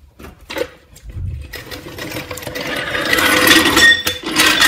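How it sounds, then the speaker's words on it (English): A floor jack lowering a 2008 Toyota Prius after a front brake pad and rotor job gives a steady mechanical hiss and rattle that builds and stays loud, with small clicks and no talking. "jack stand out of the way, and then slowly lower the vehicle down."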